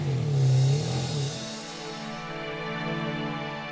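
A car is driven along at a steady pace, its engine giving a smooth, constant drone that eases slightly after a brief louder moment near the start. No one speaks.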